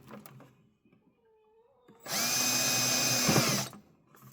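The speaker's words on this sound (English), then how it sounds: "Go up toward the top, drill a hole," A power drill bores a hole in a plastic bucket for a mouse trap: after a quiet lead-in, a loud steady whine runs for about a second and a half, then stops abruptly.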